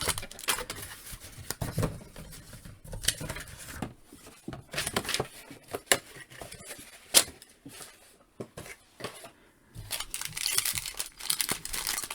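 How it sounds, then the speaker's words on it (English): Paper tissue wrapping around a Hasbro 6-inch action figure is crinkled and pulled away in bursts of crumpling and tearing, close and fairly loud, with short quiet pauses between handfuls. "everything comes in like this paper tissue wrapping"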